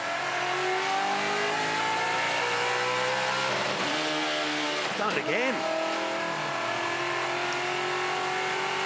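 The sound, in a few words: touring car engine revving during race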